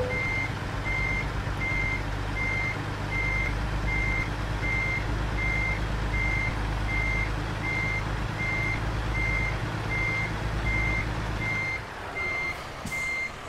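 Steady, evenly spaced reversing beeps from a semi truck in American Truck Simulator, continuous over a low engine rumble, with the engine sound dropping off near the end.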